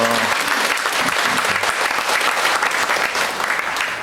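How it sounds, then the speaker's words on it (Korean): Steady applause from a large church congregation at a Sunday service, continuous and fairly loud, with no pauses throughout. "오른쪽에 박수로 환영하겠습니다."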